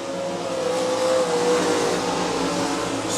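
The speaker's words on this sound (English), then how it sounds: "First of 2 heat races in your IMCA RaceSaver sprint cars" IMCA RaceSaver sprint cars roar through a heat race at Crawford County Speedway, a continuous loud engine drone and revving of several cars blending together at a distance.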